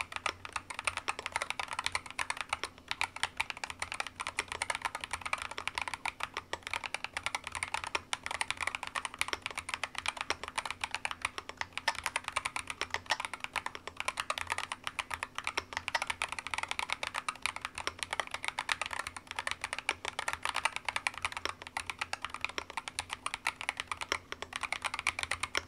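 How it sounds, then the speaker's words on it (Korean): Steady, continuous typing on a Darlyu EK75RT full-aluminium magnetic-switch gaming keyboard, close and clear, a dense stream of light clacking keystrokes with no talk over it. "그러면 이제 타이핑 테스트 진행해 보도록 하겠습니다"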